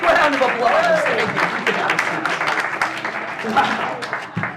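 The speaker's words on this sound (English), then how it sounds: "A big round of applause." An audience at a mermaid variety show at Caveat in NYC applauds and cheers steadily for several seconds, with a host's voice talking over the clapping.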